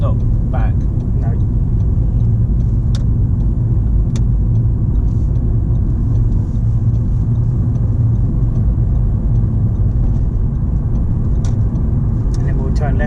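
A car's engine hums and rumbles steadily from inside the cabin during a driving lesson, a constant mid-level drone with light road noise and occasional small clicks.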